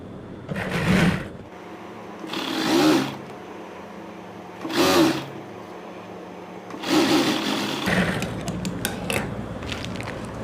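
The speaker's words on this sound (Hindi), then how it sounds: "इसको हम ऐसे रख कर पट्टी के सेंटर में सिलाई लगाएंगे यहाँ पर इस तरह से" Sewing machine stitching down the center of a trouser fabric strip, running in four or five loud bursts separated by short pauses, close up with no talking.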